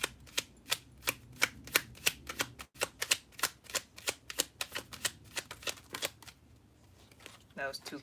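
Tarot cards are shuffled close up in a quick series of about two dozen sharp riffling snaps. A short pause comes around the middle, and the shuffling ends with a brief soft voice.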